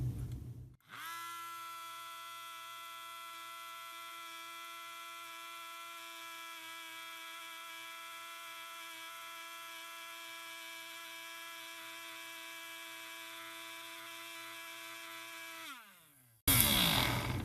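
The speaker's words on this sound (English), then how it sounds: "Alright, now let's clean the spark plug." Abrasive blaster cleaning the spark plug from a 2003 Toro Model 20017 lawnmower, a steady high mechanical whine holding for about fifteen seconds before it cuts off into a burst of louder noise.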